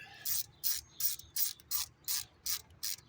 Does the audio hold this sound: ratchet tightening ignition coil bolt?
yes